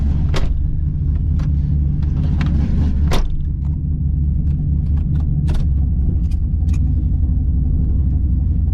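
A Z28 fitted with a custom 700R4 transmission drives with a loud, steady, deep engine rumble heard from inside, interrupted by a few sharp ticks and rattles from the cabin.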